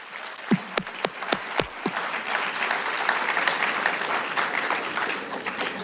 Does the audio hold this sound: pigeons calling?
no